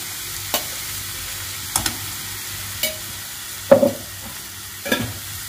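A spoon stirs carrot halwa with ghee in a pan, giving a handful of scattered scrapes and clinks over a faint, steady sizzle, with no talking.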